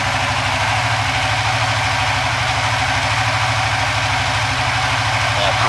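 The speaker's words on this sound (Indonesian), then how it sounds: "Dari suara mesin agak berubah ya." Engine idling at a steady, close, loud level after its ECU injection timing is retarded one degree on an Apitech tuning setup, with a continuous low rumble and no pauses.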